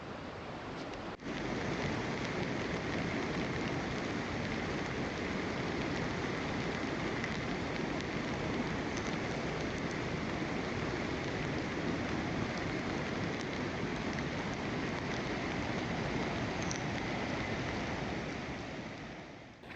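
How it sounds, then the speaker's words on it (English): Steady, persistent rain patters on a hot tent pitched on a wild stretch of Scotland's west coast, a continuous dense hiss with no let-up and no voices. "Keeps looking like it's going to stop raining, but it just doesn't."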